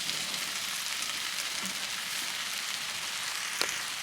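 Washed mushrooms hit hot masala in a pan and give off a soft, even sizzle, a faint and steady frying hiss with a small clink near the end.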